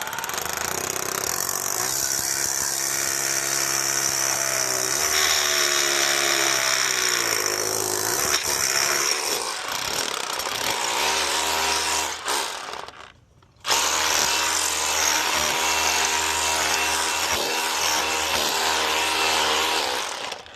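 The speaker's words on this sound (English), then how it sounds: "Let's get a hole drilled and put an anchor in." A power drill bores an anchor hole a few inches above grade for mounting a mini split unit, the motor droning loud and steady, shifting pitch as it bites, then cutting out briefly before resuming.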